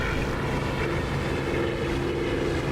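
Propeller aircraft engine from the DCS flight simulator drones steadily and loudly throughout, a dense continuous roar heard from inside the cockpit with no talking.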